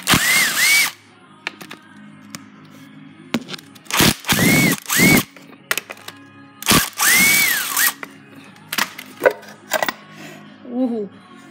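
Ratchet and power tool loosening 10 mm bolts during a Buick V6 engine teardown, with bursts of whirring and rapid clicking separated by clanks, pauses and handling noises close up.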